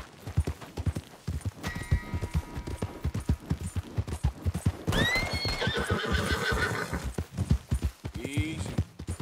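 A horse in Red Dead Redemption clip-clops along at a steady gait, then gives a loud, rising whinny, with someone speaking briefly around it.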